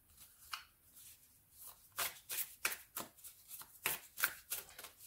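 Tarot cards shuffled for a reading make a series of crisp, close papery riffle bursts, each a second or so apart, growing busier toward the end, with no voices.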